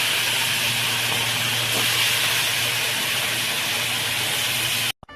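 Hilsa fish frying in hot oil, a loud, continuous close hiss and sizzle that cuts off abruptly just before the end.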